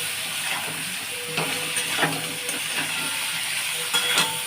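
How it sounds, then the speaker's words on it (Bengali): Ground spices, turmeric and chili powder, sizzle in a pan of vegetarian elephant foot yam curry while being stirred, a steady hiss broken by repeated clinks and scrapes of the spoon against the pan. "দিয়ে এবারে আমি নাড়বো এটাকে।"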